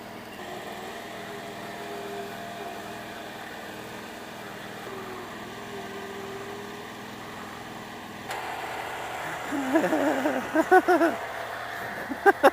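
Tractor engine labouring on a thick muddy trail, a steady low drone that swells into louder revving near the end, with brief voices mixed in.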